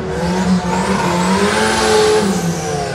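A 250 hp turbocharged Honda Civic accelerating hard in a drag race, its loud engine note climbing steadily through the revs from close by.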